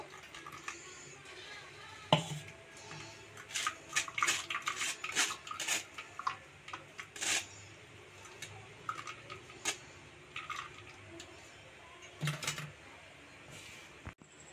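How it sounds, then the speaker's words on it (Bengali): Grated coconut squeezed and strained for coconut milk, with wet squishing, drips and repeated clinks and clatters of bowls and utensils spread irregularly through the clip. "আবারও নারকেলটা আমি ছেঁকে নিচ্ছি।"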